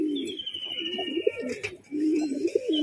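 Pigeons coo in low, rolling phrases that repeat in bursts, close and fairly loud, kept by a hobbyist who also keeps high-flying tumbler breeds, with a faint high-pitched tone running underneath.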